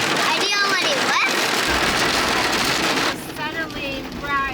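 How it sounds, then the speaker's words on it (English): Rain falls steadily at Gozalandia in a dense, hissing patter that fades slightly near the end, with chirpy calls and voices mixed in. "We'll wait for the rain to stop."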